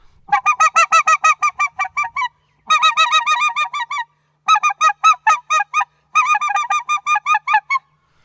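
A goose call imitates rapid, buzzy chattering notes of white-fronted geese (specklebellies) in four quick bursts, close and loud, like geese feeding excitedly on the ground.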